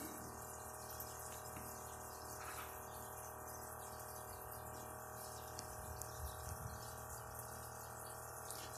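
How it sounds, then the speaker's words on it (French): Solar-powered air bubbler oxygenating water in a fish tank, giving a steady, continuous low hum and gentle bubbling hiss throughout, with insects chirping faintly in the background. "j'ai un petit panneau solaire dessus pour le bulleur"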